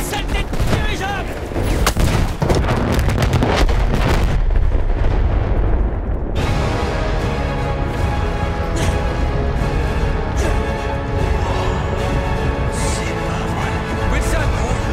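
Dense gunfire and heavy explosions roar nonstop while players shoot at an airship in the Battlefield 1 video game, loud and continuous, with voices shouting in French over the battle.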